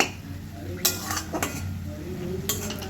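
Leafy greens are stirred in a cooking pot, the utensil scraping and clinking against the metal a few times over a soft simmering hiss, quiet and close.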